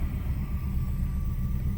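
A Lincoln Mark V engine idles with a vacuum leak from bad vacuum lines, giving a steady, close, low rumble that stays even throughout with no voices.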